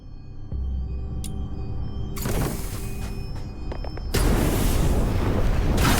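Powder kegs detonated by gunfire in the game Duet Night Abyss go off in loud, broad blasts, the first around the two-second mark and a second, heavier roar at four seconds that keeps rumbling to the end.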